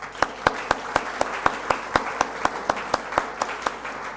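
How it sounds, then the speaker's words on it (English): Audience clapping at an online graduation ceremony in South Africa, a sparse group clapping in a fairly regular rhythm, each clap distinct and close, with no talking. "So I hope the graduates, or graduates now, can clap with us for your supporters as well."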